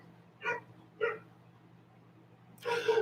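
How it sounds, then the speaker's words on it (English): A neighbor's dog barks outside, two distinct yaps spaced half a second apart, then a longer, louder bark after a pause; somewhat distant and muffled, over a low steady hum. "my neighbor's dog is outside and it's barking."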